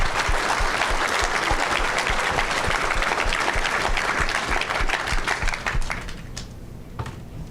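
A banquet audience at a pulling team awards ceremony gives dense, sustained applause for the Promoter of the Year winners, loud and steady before thinning out into a few scattered claps at the end.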